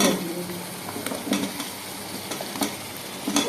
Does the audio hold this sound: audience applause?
no